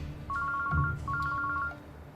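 A telephone rings close by in two short electronic ringtone bursts, each a rapid warbling trill, separated by a brief gap, with a low thump in the background.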